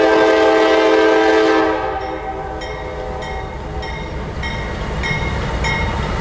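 A Norfolk Southern heritage unit locomotive passes close and loud, a long sustained horn blast dominating at first, then fading into the steady rumble of the train with repeated clicking wheel beats.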